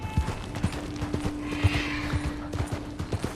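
Horse hooves clip-clopping in Red Dead Redemption 2, a steady near rhythm of hollow thuds at an easy walking pace, with a faint tonal hum underneath and no talk.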